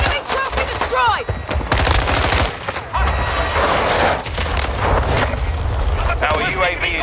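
Bursts of automatic gunfire and explosions from a Call of Duty Modern Warfare II multiplayer match, loud and nearly continuous with rapid volleys, mixed with in-game radio voices and wind-like rumble.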